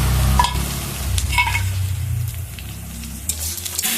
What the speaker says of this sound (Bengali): তো পেঁয়াজগুলো আর কি ভাজছি, ভেজে মশলাটা দিয়ে এখন মাংসটা কষাবো।